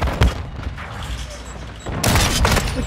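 A grenade blast in Modern Warfare 2 lands near the player: two sharp booming bursts, one early and one heavier, longer one toward the end, surrounded by gunfire and game noise.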